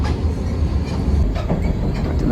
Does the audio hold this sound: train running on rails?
yes